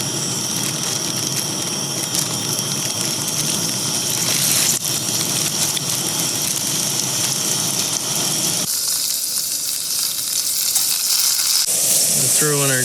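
Potatoes fry loudly in olive oil in a pan at an outdoor motorcycle campsite, a dense, close sizzle that carries on without a break and shifts in tone partway through.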